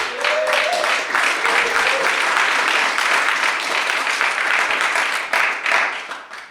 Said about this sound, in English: Can we give Jimmy a round of applause there